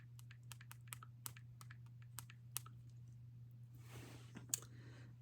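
Keys clatter on a computer keyboard as a jewelry mark search is typed, sharp separate clicks at an uneven pace over a low steady hum, with a short rustle near the end.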